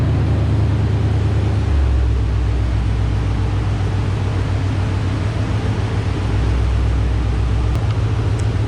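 A 3V Mustang GT with a swapped 6R80 transmission, running hard on a dyno, a loud sustained engine roar with shifting low tones throughout.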